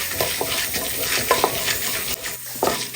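Chana dal and urad dal fry with mustard seeds in hot oil over a low flame, a steady close sizzle broken by several quick metal stirring scrapes against the pan.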